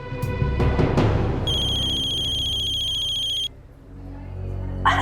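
A telephone ringtone at night in an Indian household drama, heard as a steady electronic tone over a burst of music. It rings for about two seconds and cuts off sharply, then a brief sound follows.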